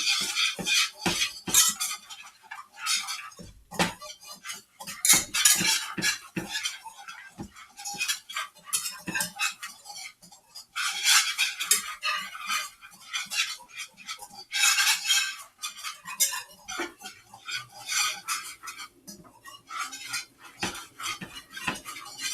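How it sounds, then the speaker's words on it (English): A whisk scrapes and clinks against a pan while stirring macaroni and cheese sauce, a rapid, continuous metallic rattling in uneven bursts, close and fairly clear, with no talking. "You want to make sure that you continuously move the whisk around so that it doesn't burn."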